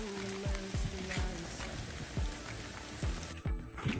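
Rain patters steadily on a mountain trail on Dobongsan, with dense close droplet noise and a few louder drips and thumps over a continuous wet hiss, and no speech.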